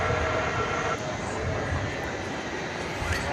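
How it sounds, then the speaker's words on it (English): Steady broadband jet and runway roar at DFW airport at night, a continuous loud wash with a faint tonal whine, unbroken throughout with no talk. "listening to your commentary and the wonderful plane noise"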